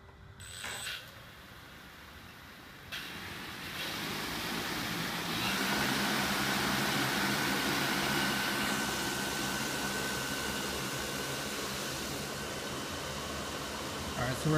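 An Align M690L RC helicopter motor spins up to quarter throttle, giving a steady mechanical whir with a thin high whine. It rises after a few seconds and then holds at a constant, fairly close level.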